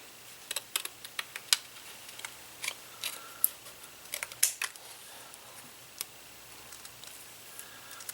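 Scissors snip through a thin metal butterfly die for papercraft, cutting away its back portion in a run of sharp, close clicks and snips spaced irregularly over quiet room tone.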